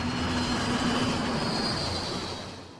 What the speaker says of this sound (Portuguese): O som de início era só de um avião normal voando.